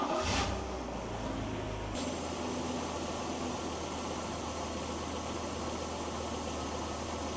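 A BMW E36 with an M52 inline-six cranks and fires after new sensors are fitted, then settles into a steady, even idle close by.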